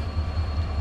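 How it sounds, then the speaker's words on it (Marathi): Steady low rumble of the Diva Sawantwadi Express train at Diva Junction on the Konkan Railway, a constant close drone with no distinct clacks. "आणि ही आपली दिवा ट्रेन आपली पाहायला भेटते इकडे."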